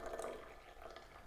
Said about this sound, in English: we're just gonna pour here as well